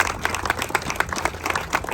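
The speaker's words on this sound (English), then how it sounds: "Let's give them a round of applause" Crowd applause for county supervisors at a Gilbertville ribbon cutting, with dense, close clapping and some distinct sharp claps standing out in a fairly loud, continuous burst.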